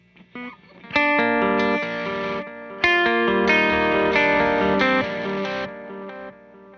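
Distorted electric guitar chords through a Meris pedal with the tube preamp set to post, sustained and aggressive with a chorus-like, modulated sheen, loud with a few pauses between strums, no talk.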